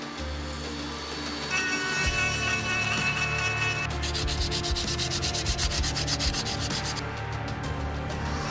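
Power carving tool sanding and cleaning up the edges of carved wood stencil letters, a loud continuous abrasive whir and rubbing that shifts in pitch as the tool moves, with no speech.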